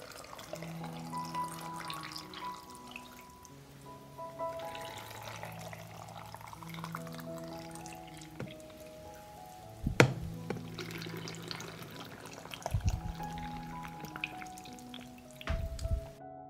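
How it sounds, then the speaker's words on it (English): Water poured into a series of glass jars packed with pepper, a steady watery trickle with faint clinks and drips, close by and moderately quiet, with no talk. "I pour water into each jar to cover the pepper."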